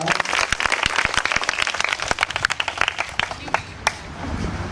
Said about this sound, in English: A clap. A clap.